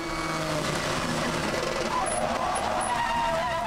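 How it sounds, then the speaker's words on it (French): An LMP2 prototype race car at Le Mans spins out, its engine roaring continuously with brief high tire squeals near the end, loud and close with no talking. "Un tête-à-queue en LMP2."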